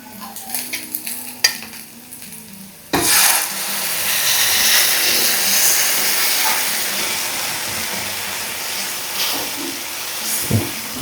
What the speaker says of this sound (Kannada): ಸಾಸೇಜ್ನ ಚೆನ್ನಾಗಿ ಫ್ರೈ ಮಾಡ್ಕೊಳ್ಳೋಣ